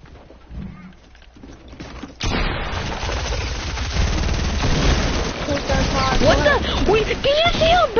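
Submachine gun fire in a video game, a dense run of rapid shots that starts abruptly and keeps going, loud and close, with a voice talking over the later part.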